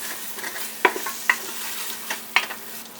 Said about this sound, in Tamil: புதினா வந்து சேர்த்துட்டு லைட்டாக வந்து மிக்ஸ் பண்ணிவிட்டு ஒரு நிமிஷம் வந்து இந்த புதினா வந்து எண்ணெயிலே வதங்கட்டும்